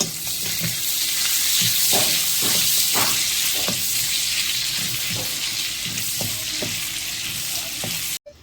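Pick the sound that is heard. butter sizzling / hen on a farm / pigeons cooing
butter sizzling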